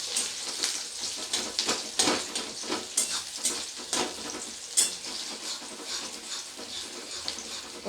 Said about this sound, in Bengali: প্রথমে মিডিয়াম আঁচে রসুনটাকে একটু ভালো করে ভেজে নেব